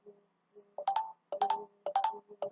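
A mobile phone ringtone plays a short melodic phrase that repeats several times in quick bursts, clear and alone with no talking.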